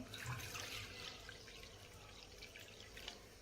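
Water is poured from a small measuring bowl for a gram-flour dough, a faint, continuous splashing trickle close by with no voices.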